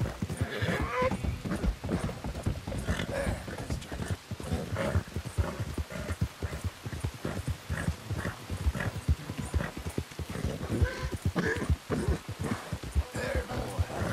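A horse gallops in Red Dead Redemption 2, its dense, continuous clip-clop hoofbeats running throughout with strained whinnies and snorts mixed in, loud and close with no talk.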